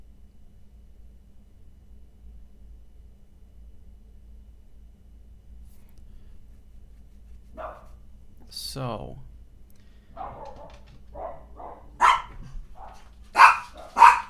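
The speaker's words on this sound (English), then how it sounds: "my dogs are yelling at somebody outside" Dogs barking at someone outside, a few sharp barks near the end after a long quiet stretch, with someone speaking briefly in between.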